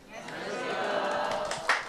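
Audience at a Korean real-estate tax lecture clapping at the start: a short burst of steady applause from a room of people, rising and holding for about two seconds.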